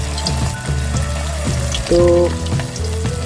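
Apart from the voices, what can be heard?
chicken manchurian balls deep frying in hot oil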